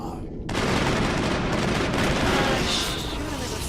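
Gunfire in the sci-fi shooter Mass Effect, a dense, loud burst of rapid shots that starts abruptly and rattles continuously for several seconds.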